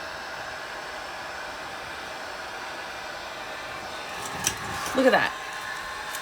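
A heat gun strips paint with a steady, moderate blowing hiss throughout, and near the end a person speaks briefly over it.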